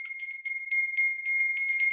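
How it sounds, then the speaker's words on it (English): A handmade bell rings repeatedly in a quick tinkling rhythm, its bright sustained tone pulsing with each shake, close and moderately loud with no talking. "I ring my bell usually before I start."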